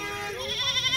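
Goat bleating at a livestock market in Shahdadpur, Sindh, a sustained wavering cry that swells and pulses toward the end, close and fairly loud over a murmuring background.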